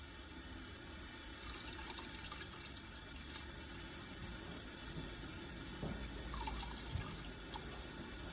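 Water running into a sink with a snail on it, a steady faint trickle and splash with occasional drips throughout, no voices.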